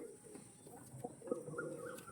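Pigeons kept for sale, a blue-barred breed, give a few soft coos and low throaty murmurs close by, quiet and intermittent against a faint background hum.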